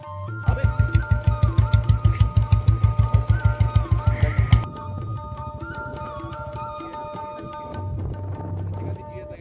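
A Honda Hornet 160 CB160R motorcycle rides on a hill road near Lansdowne, its engine throbbing in rapid rhythmic pulses that fade to a steadier hum, with wind noise and someone talking throughout.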